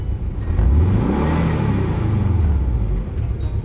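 A 1990 Volkswagen Vanagon Carat engine revs up close and loud, a deep rumbling rise in pitch that holds steady before easing off near the end, with no talking.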